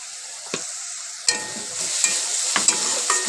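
Spices with sugar and chilli powder fry in oil for okra tel jhal, giving a strong steady sizzle with several sharp scrapes of stirring, loud and close.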